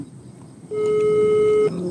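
A phone ringback tone for an outgoing call plays as one long steady electronic tone lasting about a second over faint room noise, then cuts off.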